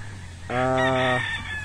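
A rooster crows once, loud and close, a single drawn-out call of about a second over a low steady background hum.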